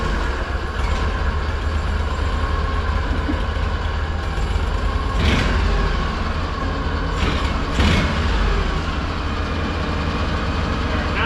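An Argo 8x8 amphibious vehicle's engine runs steadily just after starting, a continuous low idle rumble close by with a few brief mechanical clacks.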